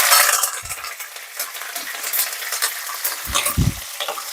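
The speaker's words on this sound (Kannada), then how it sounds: "ಕರಿಬೇವು ಜೊತೆಗೆ ಒಣಮೆಣಸಿನ್ಕಾಯಿ ತಗೊಂಡಿದ್ದೀನಿ ಹಾಕ್ತಾ ಇದ್ದೀನಿ ಇದನ್ನೆಲ್ಲ ಬಾಡಿಸ್ಕೊಳ್ಳೋಣ ಸ್ವಲ್ಪ" Curry leaves and dried red chillies crackle and sizzle loudly in hot frying oil, a steady close-up hiss with a couple of brief low thumps from a stirring spoon against the pan; no one speaks.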